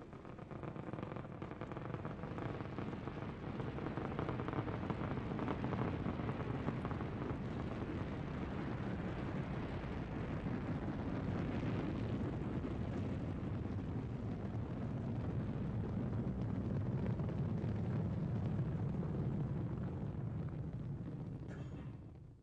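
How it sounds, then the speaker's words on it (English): The Space Shuttle Endeavour on its 1996 STS-72 launch gives off a low, steady, distant rocket-engine roar, a broad rumbling crackle that holds evenly for over twenty seconds with no talk. "This is ignition and liftoff of Endeavour in pursuit of a Japanese satellite."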